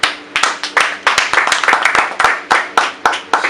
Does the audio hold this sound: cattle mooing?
no